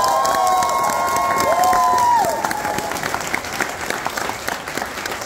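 Crowd at a punk rock concert in Seoul clapping and cheering, loud and dense with shouts, a tonal whine over the first two seconds, then the applause settles to a softer patter.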